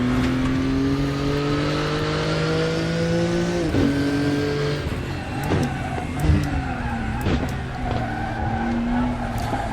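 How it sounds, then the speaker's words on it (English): Porsche race car in the Raceroom racing game braking hard, tyres squealing and skittering near lock-up as the engine note falls through downshifts, then a loud howling engine as it pulls away again. "the sound of the tyres trying to lock up under the brakes"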